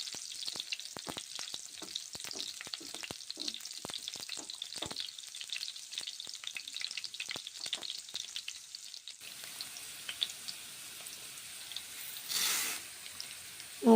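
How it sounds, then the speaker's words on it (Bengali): Carrots frying in hot oil in a pan, a close, crackling sizzle with many sharp pops through the first part, then a quieter hiss with a brief rushing swell near the end. "গাজরগুলো তাই ভেজে নিচ্ছি।"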